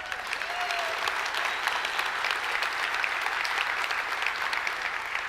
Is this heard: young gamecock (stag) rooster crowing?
no